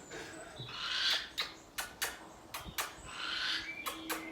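A man imitating a burrowing owl's contact call with his own voice, a string of short breathy squeaky notes with hissy bursts, close and moderately loud.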